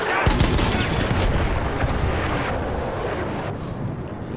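An enemy soldier exploding in Battlefield 1, a loud rumbling blast with a sharp onset followed by a sustained roar and crackle that slowly fades, heard close amid game noise.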